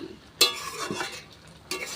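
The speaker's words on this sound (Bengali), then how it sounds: "দেখুন টকবক করে ফুটছে" Sweet, sour and spicy mango and jaggery pickle cooking in a pan, with a sharp scraping stir burst, a soft sizzling bubble, and another stirring scrape near the end. No one speaks.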